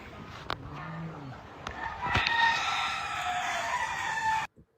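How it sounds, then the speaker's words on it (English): Roosters crow repeatedly on a rural estate, one long crow followed by others overlapping close by, with sharp clucks and short calls between them before the sound cuts off abruptly. "The roosters, they don't stop roostering."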